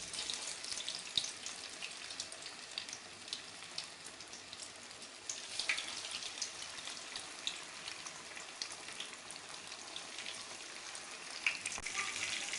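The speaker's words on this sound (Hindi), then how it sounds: "घी हमारा गर्म हो चुका है, तो अभी हम पीसेस डालना शुरू करेंगे एक एक करके। फिश के पीसेस" Fish pakora pieces frying in hot ghee, a continuous soft crackling sizzle with scattered pops, fairly quiet and steady throughout, no talking.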